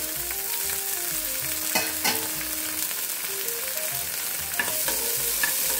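Turkey berries sautéing in a little oil in a kadai, a continuous sizzle with periodic stirring scrapes and a few sharper clinks, close and without speech.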